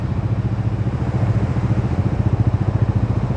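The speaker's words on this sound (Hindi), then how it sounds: "कोल्ड स्टार्ट दे दिया हमने बाइक को। तीनों बाइक स्टार्ट दे दिया है" Three Bajaj motorcycles, including Dominar 400 and 250 models, idle together after a cold start on a mountain track, a loud, close, steady throbbing engine rumble with no talk over it.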